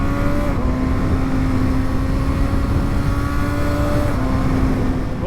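A 2020 Kawasaki ZX6R sport bike accelerates hard on a road, its engine wailing at high revs with rising pitch and quick gear shifts, loud and close throughout under wind noise.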